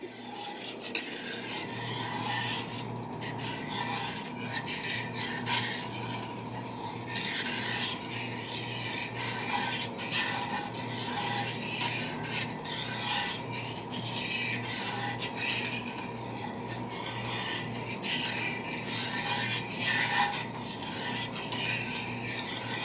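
A spoon stirs a thickening mixture in a pot on high heat, a continuous soft scraping and rubbing sound that goes on steadily for the whole stretch, close and fairly quiet, with no talking.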